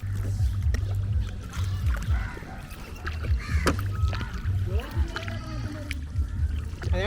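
A rowing boat moves across Vembanad lake, with steady water swishes and paddle strokes close by and voices calling in the background.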